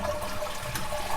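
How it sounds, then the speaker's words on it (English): Toilet flushing to drain the water from the tank, a steady close rushing of water throughout. "Then you're going to want to flush the toilet to drain all the water from the tank."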